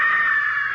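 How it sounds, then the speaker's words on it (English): A woman's high, sustained scream rings out briefly and loudly, a single held cry with no other voices. "Did you hear that woman scream?"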